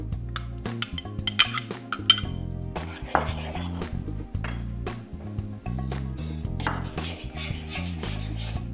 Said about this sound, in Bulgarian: Смесвам го с 2 супени лъжици кисело мляко и 1 супена лъжица брашно.